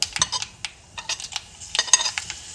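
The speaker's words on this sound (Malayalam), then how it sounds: "എണ്ണ ഒഴിച്ചു, കടുക് പൊട്ടിയിട്ടുണ്ട്" Irregular bursts of sharp pops and crackles spatter as mustard seeds splutter in hot oil in a pan, close and fairly loud, with quieter gaps between the flurries.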